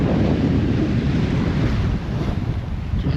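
Steady wind buffets the microphone while waves wash past a sailboat heading toward La Franqui, a loud continuous roar with no talk and a slight dip near the end.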